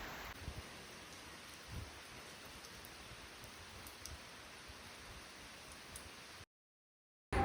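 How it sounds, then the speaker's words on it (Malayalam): Heavy rain pours down steadily as a dense, even hiss close by with a few brief louder patters, continuing without voices until it cuts to silence near the end. "ഇവിടെ നല്ല മഴ വരുവാണ് ഗൈസ്"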